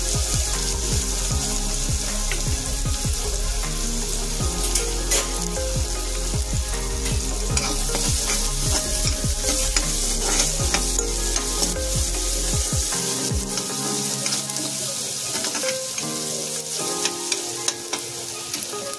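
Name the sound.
onion frying in oil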